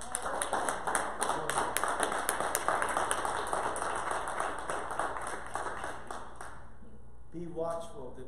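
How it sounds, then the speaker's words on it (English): A church congregation claps together in a dense burst of hand claps that fills most of the stretch, then thins out and fades, with a voice speaking briefly near the end. "Y'all give God a hand clap."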